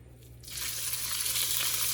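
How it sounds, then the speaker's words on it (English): Steady, loud sizzling of meat and onions for chili hitting a hot frying pan, starting abruptly after a brief quiet moment and continuing as a dense hiss. "let's see if we got a sizzle"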